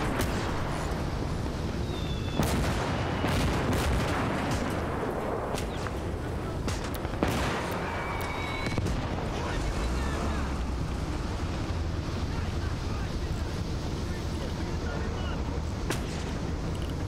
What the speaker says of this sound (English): There's probably damage in the artillery strike.